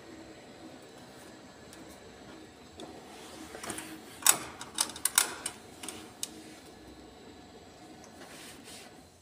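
A Ricoh office printer switched back on and running, giving a low mechanical hum with a cluster of sharp clicks and whirring clatters in the middle, then settling back to a quiet drone.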